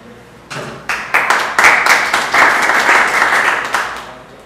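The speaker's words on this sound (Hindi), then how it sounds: "जोरदार तालियों से मैम का स्वागत" A crowd at a music audition gathering breaks into warm applause as a woman is welcomed onto the stage, clapping swelling quickly after a quiet moment, staying full for a few seconds, then fading.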